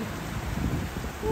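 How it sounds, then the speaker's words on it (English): Hail driven by strong wind on a seaside promenade, a steady dense roar of gusting wind and pelting ice that stays loud and unbroken throughout. "you see how much that's hailing"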